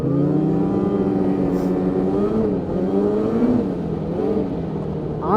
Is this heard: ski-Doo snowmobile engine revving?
yes